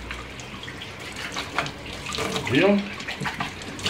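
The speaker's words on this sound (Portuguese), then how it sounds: "Tampa aqui embaixo para água escorrer pelos buraquinhos" Tap water running through the holes of a recorder flute as it is washed under a faucet, a steady close splashing flow, with a brief spoken word partway through.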